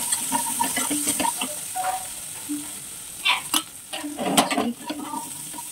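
Garlic fries in ghee in a pan as turmeric is added, a quiet sizzle punctuated by scraping and tapping from a spoon stirring, with no voices.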